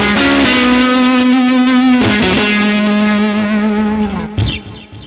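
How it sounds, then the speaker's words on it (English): Distorted electric guitar sustains notes with a wide, physical vibrato, shaking the neck, with a couple of pitch shifts before trailing off into a brief flurry. "He would sort of hold a note and just kind of shake his whole neck."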